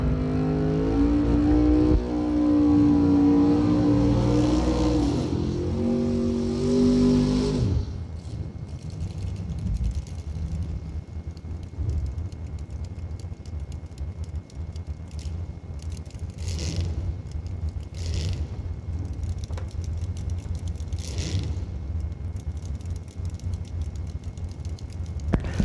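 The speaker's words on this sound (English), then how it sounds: "Mike Bloomfield Jr. coming up to do the test run on the tires and the burnout." At a drag strip, a drag car revs hard with rising engine tones through a tire burnout, then drops to a rougher idle with bursts of throttle and distant crowd noise.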